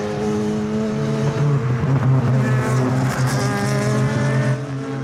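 Race cars, among them a Seat Leon and a small Crosley, roar past on the Kirkistown circuit at a club race meeting. Loud, sustained engine drone with shifting pitch and a brief rising sweep as the cars go by.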